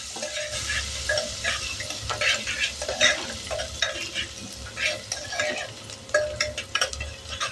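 Finely chopped onion sautéing in a pan while being stirred, soft sizzling broken by irregular scraping and stirring strokes, close-miked and without speech.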